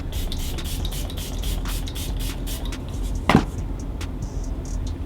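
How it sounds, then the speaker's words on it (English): A single short burst of makeup setting spray spritzed close by, standing out over a steady background of rustling and light clicks. "And we're gonna do one more spritz of setting spray."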